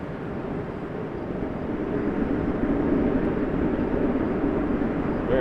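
WestJet airliner at Toronto Pearson Airport, heard as a steady broadband jet roar that swells slightly and holds at a moderate distance, with no talk over it.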